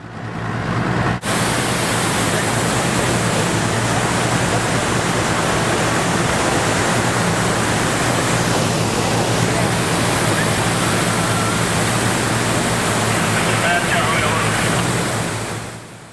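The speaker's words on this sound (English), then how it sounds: "getting completely soaked under one of the smaller waterfalls" A powerful waterfall roars continuously and loudly, a dense broadband rush of crashing water that fills everything without pause.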